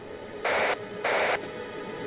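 A radio in the escape video game How 2 Escape beeps out a code signal: two long, even tones of equal length separated by a short pause, loud and alone over a faint hiss.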